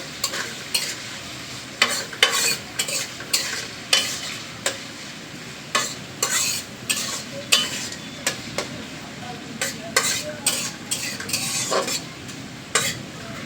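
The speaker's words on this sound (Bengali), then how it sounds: "পেঁয়াজটা আমি বাদামি করে ভাজা নেব" Chopped onions sizzle steadily in a hot pan with cardamom and cinnamon, browning while a spatula scrapes and stirs in repeated, rhythmic strokes, close and fairly loud.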